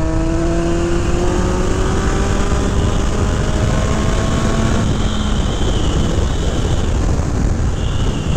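A 1982 Kawasaki GPZ1100 superbike roars past on a bumpy road. The loud, steady engine note slides downward as it passes, with heavy wind rush throughout.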